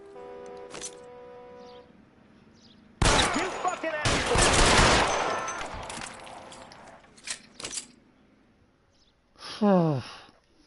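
Gunshots ring out during a police confrontation: a loud burst of several sharp shots crowds the middle, with scattered thuds and brief voices before and after.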